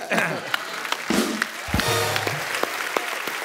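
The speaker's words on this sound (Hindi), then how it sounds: "प्रियंका के लिए जोरदार तालियां।" A studio audience at a Hindi comedy talk show breaks into lively applause for a celebrity guest, a steady crowd clatter joined by brief voices and a short musical sting.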